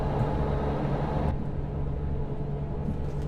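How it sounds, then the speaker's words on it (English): Constant road roar from a modded truck's tires in American Truck Simulator, a steady broadband hum under the engine drone with a low tonal rumble, the hiss dropping off partway through as the view shifts. "but there definitely are tire sounds."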